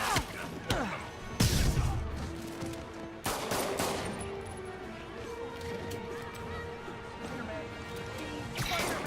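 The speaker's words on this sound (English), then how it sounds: "So hard to dodge bullets." Gunfire and impacts in the Marvel's Spider-Man video game, with sharp bursts and crashes near the start and middle over a busy, dense game soundscape.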